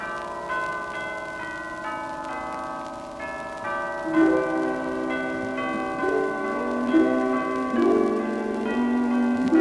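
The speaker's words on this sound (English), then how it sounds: "The bells of Christmas morning were ringing loud and clear." Christmas morning church bells ring out in a steady, layered peal, their tones overlapping and sustaining, with a louder swell of chiming partway through.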